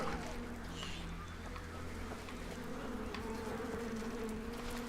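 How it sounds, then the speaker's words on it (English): A steady insect buzz from a video game, droning continuously at moderate level for the whole stretch with faint background tones and no talking. "I should have known when I started to hear the buzzing noise."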